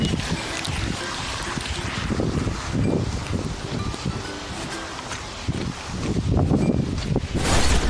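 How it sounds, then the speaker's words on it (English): Strong hurricane wind from Hurricane Ian roars and gusts continuously, with broadband rushing and buffeting against the microphone that swells louder toward the end, with no talking. "I just want you to listen to the wind."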